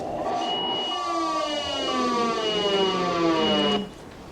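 An ambulance siren from a children's game jam video game plays as a loud, rising and falling electronic wail that repeats steadily for several seconds, then cuts off abruptly.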